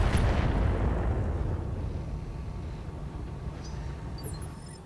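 Mech weapons fire in BattleTech: a booming impact opens the clip and then fades into a long, low rumbling decay, with no talk over it.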